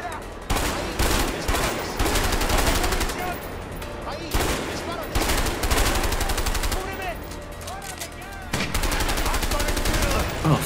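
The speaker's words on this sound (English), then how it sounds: "you don't want to be like working for Harvey if he's just randomly firing grenades" Gunfire and grenade blasts in the video game A Way Out: loud, dense rapid bursts and booming hits pour out almost nonstop, with only a few brief breaks.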